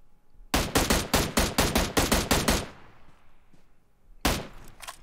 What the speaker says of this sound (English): They're shooting at me now?